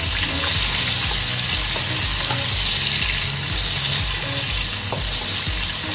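Lemongrass sizzles in hot oil for a bean curd sambal, a loud, steady frying hiss with occasional crackles and light stirring, close up and with no voices.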